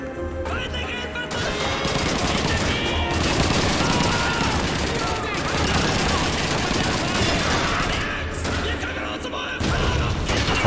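Sustained gunfire from the World War II shooter Call of Duty 2, the Pipeline mission: continuous rattling automatic bursts and layered shots that stay loud and close throughout, with a few brief lulls and occasional crashes.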